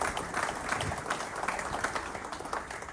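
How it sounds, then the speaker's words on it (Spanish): An audience at a public event in Salta, Argentina, presenting the country's first Dash 8-400 aircraft, claps for the airline company Flytech, producing a faint, distant patter of applause that swells briefly and stays steady. "Y vaya un aplauso para Flytech"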